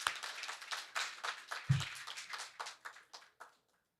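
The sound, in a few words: round of applause from audience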